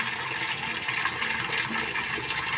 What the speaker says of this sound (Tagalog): yung running water talaga na ganyan